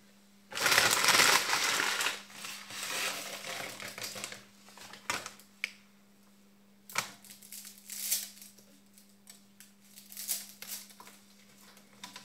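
Dry noodles snapped in half over a pot while cooking salmon in broth with courgette noodles: a loud burst of crackling and crunching at the start, then scattered sharp snaps and small clatters, with a steady low hum underneath.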